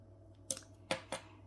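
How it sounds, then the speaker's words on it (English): Small scissors snipping thread on a handmade Santa Claus Christmas ornament: three crisp, close snips in quick succession over a faint steady hum. "then I'm going to cut my thread"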